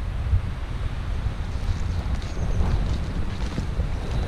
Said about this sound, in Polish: Wiatr szumi.